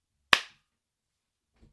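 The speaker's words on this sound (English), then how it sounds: "there you go, sync clap" A single sharp sync clap for a podcast recording rings out once, close and loud, and decays quickly into silence.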